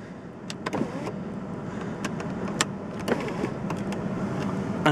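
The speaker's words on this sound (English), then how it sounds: "let's just make sure this sunroof works for you." An electric sunroof motor whirs on a Mercedes CL500 coupe, a continuous mechanical hum with scattered clicks and knocks as the panel struggles and sticks in its track.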